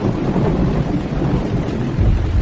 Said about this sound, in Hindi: रास्ते में अचानक बारिश शुरू हो जाती है।